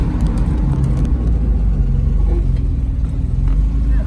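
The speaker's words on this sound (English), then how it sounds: "I'm gonna stomp the brakes on here really quick." A 1971 Mercedes 280 SL stops hard on the road, its engine and tyre rumble running steady and loud throughout with a dense low roar and no clear squeal.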